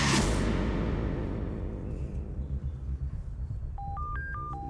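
A telephone dialing sound effect: a brief run of clear touch-tone beeps heard alone near the end, after a fading whoosh.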